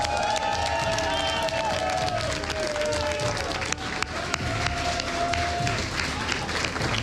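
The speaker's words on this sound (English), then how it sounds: "Our thanks also, a big round of applause," Crowd applause and scattered cheers at a StarCraft 2 WCS Europe grand final prize ceremony, steady and broad, with voices talking over it.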